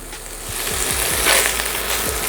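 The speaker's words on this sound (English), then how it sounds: "our oil is up to temperature, so what we're gonna do is we're gonna start adding our sausages" Sausages frying in hot vegetable oil for a red beans and rice casserole give a steady, close sizzle with a few soft pops and plops as pieces go into the pan.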